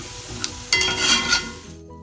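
Golden raisins and cashews sizzling in hot oil, with a sharp burst of frying crackle partway through that settles into steady close sizzling and stirring before stopping abruptly.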